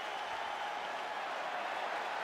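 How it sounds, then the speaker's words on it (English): A dense arena crowd in EA Sports UFC 5 roars steadily between rounds, a broad continuous wash of cheering and applause with no breaks, held at an even level throughout. "This crowd is going sick after what they saw in that previous round."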